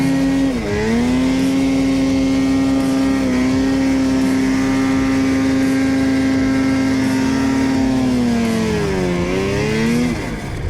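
A snowmobile engine held at high RPM, loud and close, with a steady droning whine that dips briefly near the start and again near the end before climbing back up.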